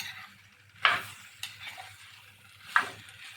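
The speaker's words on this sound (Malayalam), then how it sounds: "കൂട്ടത്തിൽ ഒരു 3 പച്ചമുളക് അരിഞ്ഞ് വെച്ചിരുന്നതാണ്. അത് ഇട്ട് കൊടുത്തിട്ട് ഒന്ന് വഴറ്റി കൊടുക്കുക." Chopped green chillies sautéing in a pan for Kerala-style theyal, a soft sizzle broken by a few sharp stirring scrapes and clinks of a spoon against the pan.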